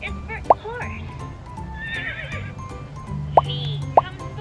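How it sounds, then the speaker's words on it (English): A horse's whinny rises over a soft musical backing in a children's alphabet lesson, with a few sharp clip-clop-like plinks scattered through and a narrator's voice faintly present. "H is for horse"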